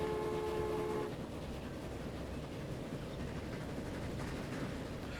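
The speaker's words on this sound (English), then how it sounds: "First train out and on its way." Train pulling out in Transport Fever 2 on an island rail line: a brief horn-like tonal blast over steady rumbling rail noise that continues evenly after the tone stops.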